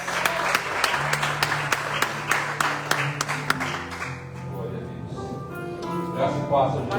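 A church congregation at an evening worship service claps in a steady rhythm for several seconds, then the clapping fades. Voices speak and sing over it, and the room sounds reverberant.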